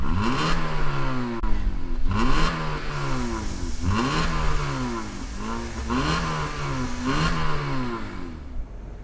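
A 2020 Acura ILX A-Spec engine runs with repeated revs rising and falling, a steady mechanical drone swelling several times, close and fairly loud.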